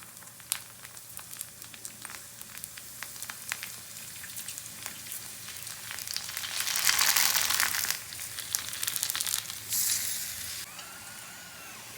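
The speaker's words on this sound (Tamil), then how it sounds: "இப்போது பூரி பொரிச்சு எடுத்துக்கலாம்." Masala poori deep-frying in hot oil gives a steady, soft sizzle and crackle that swells louder midway, with no one talking.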